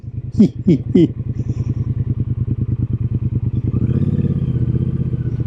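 A Triumph Speedmaster Chrome custom motorcycle being ridden, its engine thumping in a steady, close, rumbling rhythm that swells as it accelerates, with a few brief clattering knocks near the start.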